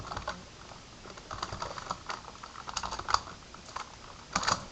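Typing on a computer keyboard: irregular bursts of crisp key clicks, close and fairly quiet, with a few louder keystrokes near the end and no talking.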